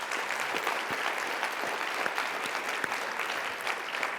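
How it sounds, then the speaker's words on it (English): Applause from a convention audience, dense steady clapping that fills the space, loud and continuous throughout with no talking over it. "Can we give them a round of applause?"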